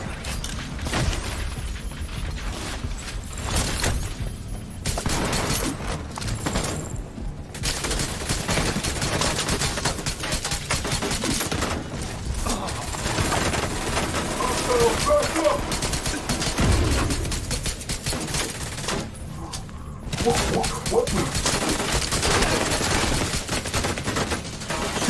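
Near-constant bursts of automatic and single-shot gunfire from The Division 2, loud and dense throughout with brief lulls and a voice speaking over the combat.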